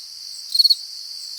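Crickets chirp in a high, thin, continuous trill, with a short pulsing burst of louder chirps in the middle, alone against otherwise silent surroundings.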